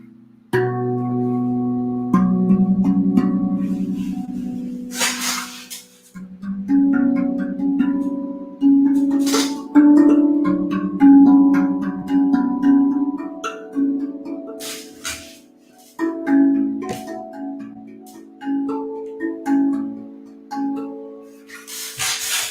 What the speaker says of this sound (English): And this is my musical drum.